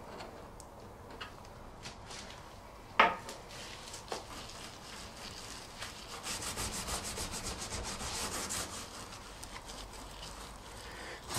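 Greasy interior of an oven being scrubbed, reaching into the corners: a steady rough rubbing with a few sharp knocks early on, then louder continuous scrubbing strokes toward the end, with no talk.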